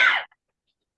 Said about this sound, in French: Ah, je tousse.